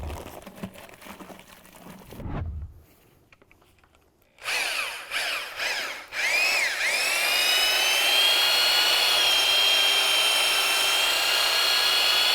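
A power drill with a mixing paddle whirs up to speed and then runs steadily and loudly, stirring masonry materials for a dry stack wall. Before it starts there is some handling noise and a brief pause.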